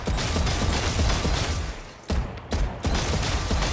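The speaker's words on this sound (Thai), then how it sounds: "ดูดิเสียงโคตรสนั่นน่ะเสียงยิงหัว" Booming headshot gunfire in Valorant, a dense run of loud shots with a brief pause midway, then more sharp reports and a mechanical click.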